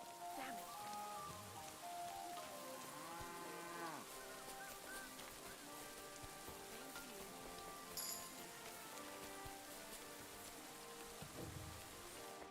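In Kingdom Come: Deliverance II, rain patters steadily in the background while cattle moo loudly over it, with a faint chime partway through.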